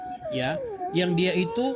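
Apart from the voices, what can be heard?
cat meowing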